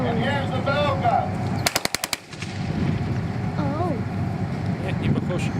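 Tank bow machine gun firing a short, fast burst of about six loud shots close by, with people talking before and after.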